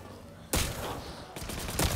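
Shotgun firing in the video game Welcome to ParadiZe: two loud, booming blasts about a second apart, each followed by a short rumbling tail, with a third, weaker hit near the end.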